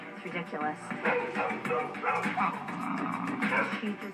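A dog barks and yips agitatedly in quick bursts, fairly close, with some muffled voices mixed in underneath.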